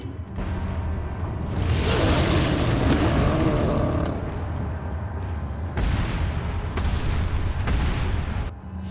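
An incendiary grenade in Resident Evil 4 HD bursts into a long roaring, crackling rumble, fading briefly before a second loud surge of fiery blasts.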